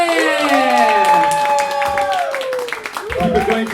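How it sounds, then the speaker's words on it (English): Comedy club crowd clapping and cheering as a stand-up comedian takes the stage, lively applause under a loud musical sting and voices, close and busy throughout. "Please welcome to the stage with a massive round of applause."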